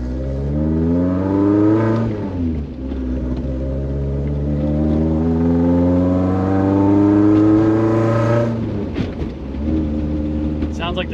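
A Fiat X1/9 engine holds a steady, loud idle with a buzzy, harmonic drone, rising briefly in revs and then settling back, with a short pause and clicks near the end.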